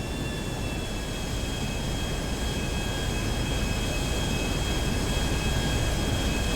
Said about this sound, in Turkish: Kanka harika bir uçak. Uçağa bayıldım.